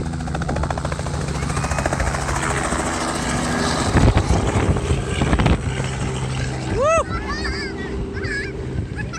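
A helicopter's steady rotor chop and turbine whine fill the air close by, with a rising whir partway through and a few sweeping tonal sounds near the end.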